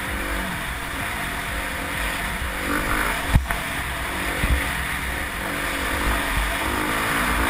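A Honda CRF250R dirt bike rides a desert trail, its engine a steady, rushing drone with wind noise and a couple of brief knocks as the bike bounces along.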